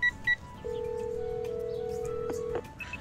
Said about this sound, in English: I call him, but the phone rings for a while before it connects